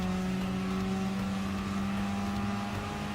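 A Renault Megane Gr.4 race car in Gran Turismo Sport drones along at a steady high pitch, its engine note holding level and loud throughout with no talking.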